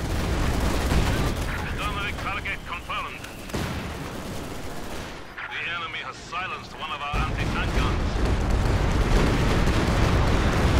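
Heavy gunfire and shooting from a Company of Heroes 2 battle rattle on throughout, rifle volleys and bursts mixed with booming explosions, easing briefly in the middle before surging loud again.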